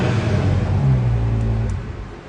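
Close-up car engine revving: a rising, then falling engine note over a steady hum, fading toward the end.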